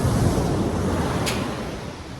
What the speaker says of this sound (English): I think they were saying like 12-foot swells or something like that.